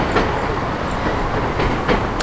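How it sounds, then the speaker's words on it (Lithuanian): An old train rumbles over the rails near Knaresborough, a steady, close roar with faint clickety-clack wheel beats running throughout. "Tai dunda traukinys per bėgius senovinis."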